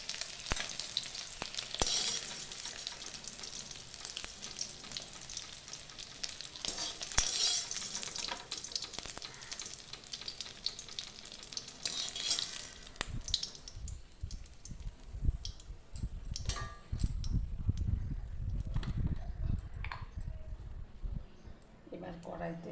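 Eggs fry in mustard oil in a wok, giving a continuous close sizzle and crackle with occasional scraping and handling clatter, softer in the middle stretch and rumbling near the end.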